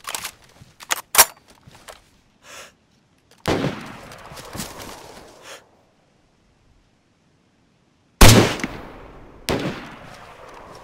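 Gunshots in the video game DayZ: a quick cluster of sharp cracks, then louder blasts at intervals with quiet gaps between them.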